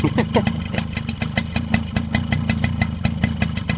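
A 26-year-old Suzuki LT50 quad bike's small engine idles close by with a rapid, steady putter and a faint voice partly underneath.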